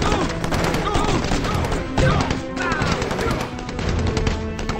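Constant gunfire from the video game Empires & Allies, a steady loud barrage of rapid shots with clanking impacts and background game effects filling the whole stretch, with some voice in the mix.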